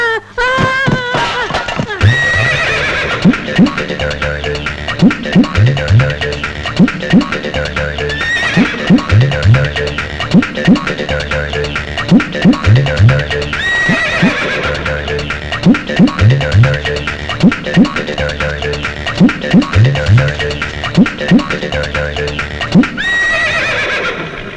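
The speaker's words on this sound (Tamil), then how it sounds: "இப்படி குதிரை ஓடுது, அது ஓடுது" A horse in a Tamil feature film neighs and whinnies repeatedly over a steady, rhythmic clip-clop and a busy soundtrack, loud and close throughout.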